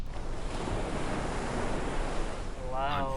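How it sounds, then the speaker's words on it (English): Ocean waves rush and roll in a continuous, loud broadband wash with a windy edge, a brief tonal sweep rising near the end. "I can't hear you over the ocean."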